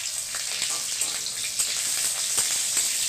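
Cut mango pieces and three slit green chillies sizzle steadily in hot mustard oil with browned ground mustard in a pan, a continuous close crackling hiss with small pops throughout.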